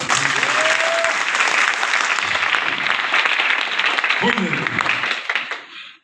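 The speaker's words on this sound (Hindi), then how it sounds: "ताली बजाओ उनके लिए।" An audience claps loudly and continuously at an event, dense applause that holds steady before tapering off at the end, with a voice heard briefly over it.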